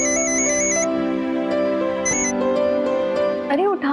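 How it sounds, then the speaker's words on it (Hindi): A phone rings in an indoor scene from a Hindi TV serial, a bright repeating electronic ringtone melody that plays loudly and close by. "अरे उठा लो ना, उसने पहले भी फोन किया था।"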